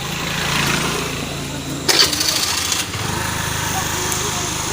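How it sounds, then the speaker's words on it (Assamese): A scooter motorbike pulls up on a village road, its small engine buzzing and rising to a brief louder burst in the middle before settling back. People chat nearby. "বাইক আহিছে স্কুটি"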